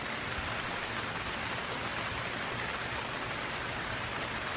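Steady rain sound effect plays continuously during a live astrophotography stream, a dense even hiss of falling rain on a surface, loud and unbroken with no voices.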